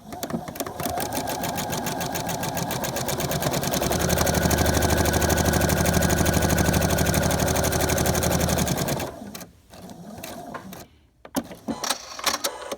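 A Pfaff Creative 3.0 domestic sewing machine, run by foot pedal, stitches steadily and rapidly for about nine seconds, then stops, leaving a few small handling clicks and rustles.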